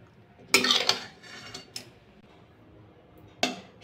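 Plate and serving utensils clink as cooked sheem (flat beans) with posto is served onto a plate: a cluster of sharp, close metallic clinks early on, a few lighter taps, then one more clink near the end amid quiet pauses.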